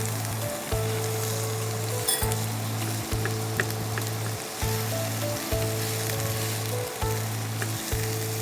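Chopped onion frying in oil with half a spoon of salt for chicken bread corn samosas: a steady, close sizzle with occasional stirring clinks runs throughout under a low background hum, and no one speaks.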